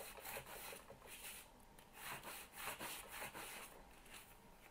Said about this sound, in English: So I'm just going to sand a little bit of that shine down.